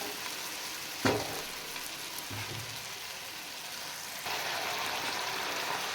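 Afghani aloo karahi cooking over low heat gives a steady, soft sizzle throughout, with a brief clatter near the start and the frying hiss growing slightly louder toward the end.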